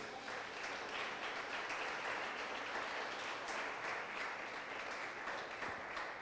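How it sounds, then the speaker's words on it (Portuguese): Sustained applause at a church service fills the space, dense and even from start to finish, like a big audience clapping together. "Você pode dar uma ação de palmas para Jesus?"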